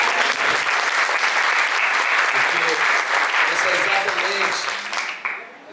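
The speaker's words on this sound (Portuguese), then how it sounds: "Acho que ele merece uma salva de palmas." A plenary audience at a Sebrae AM staff debate bursts into loud, dense applause for a colleague named Kevin, sustained clapping filling the room before tapering off at the end.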